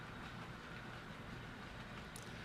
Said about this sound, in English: So there is the train.